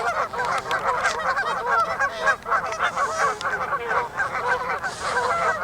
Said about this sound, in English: Got goose squabbles going on.